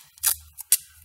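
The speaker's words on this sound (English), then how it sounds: "cut it with the scissors if you want." Scissors snip through paint tape during a laptop repair, two quick, crisp cuts close by, with faint handling noise between them.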